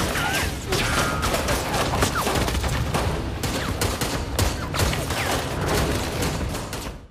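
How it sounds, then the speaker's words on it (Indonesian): Film shootout with dense, loud gunfire, rapid bursts and fusillades of shots overlapping almost continuously amid clattering and impacts, mixed with other action noise. "Mereka mulai memburu para penyusup dan baku tembak pun terjadi"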